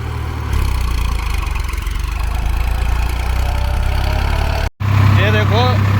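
Tractor engine running steadily at about 1600 rpm with a thirteen-tine cultivator attached, a loud continuous drone held throughout with a brief cut near the end, then resuming with birdsong chirps over it.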